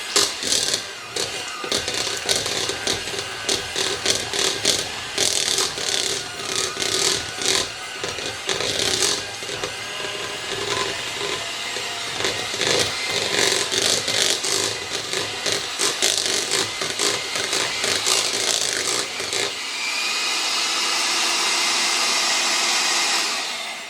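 Electric mixer beating room-temperature cream cheese until light and fluffy, a loud continuous whirring grind with rattling texture that steadies into a smoother drone near the end, with no talking.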